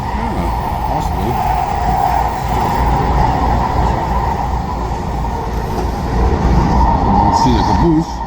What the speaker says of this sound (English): there's the train about right about now.